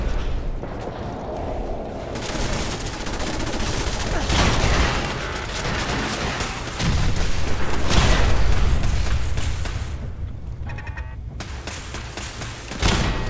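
Heavy gunfire and booming blasts in Fallout 4 during a firefight, loud and sustained with rolling explosions, a voice briefly heard between volleys.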